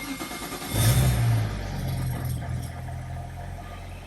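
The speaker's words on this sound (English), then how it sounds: "Might see if the car starts." A BMW engine cranks and fires, surging in a brief rev before dropping to a steady, even idle, heard alone and close.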